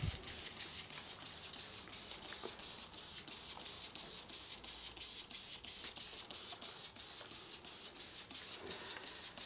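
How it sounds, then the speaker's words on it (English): Quick, rhythmic hissing spritzes from a spray bottle misting water onto a large painting canvas repeat in a steady series, soft and close, with no talking. "give the canvas itself a bit of a spray with water"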